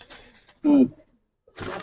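A pigeon, one of several Giribaz silver high-flyer birds, gives a short, close, throaty coo, then a softer second call after a brief pause, with faint voices in the background.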